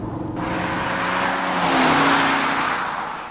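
A Ford Lincoln with an AODE transmission accelerates at three-quarter throttle, engine rising in a broad swell that peaks then eases as the gear changes, heard from the car and steady without speech.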